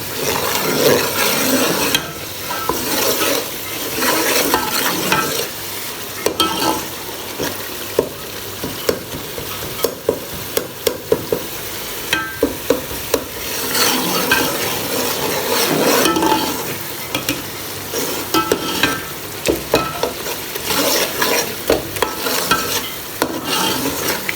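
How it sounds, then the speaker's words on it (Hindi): Masala spices sizzling and frying in a pan for a kabab gravy, stirred continuously with scraping, tapping strokes against the pan, steady and close throughout with no talking. "मसाला हमारा भुना जा रहा है।"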